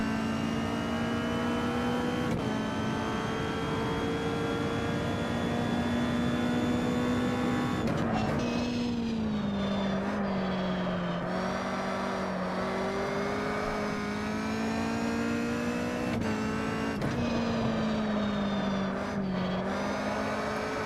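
Caterham Superlight race car in the Automobilista sim at Okayama, its engine droning steadily at high revs, then repeatedly lifting off and rising again through gear changes and corners.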